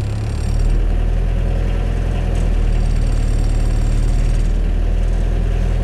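A 1995 Mitsubishi Triton engine with a faulty transfer-case mount starts up and settles into a loud, steady idle with a low, shaky rumble, close and continuous without speech.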